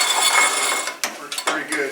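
A metal spatula tool scrapes ashes out of a rocket stove, producing a close, gritty scrape followed by a few short metallic knocks and scuffs.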